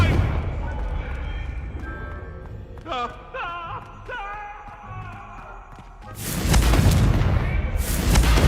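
A Confringo fire spell in Hogwarts Legacy bursts into a loud, roaring explosion near the end, after quieter magical chimes and rumbling game ambience.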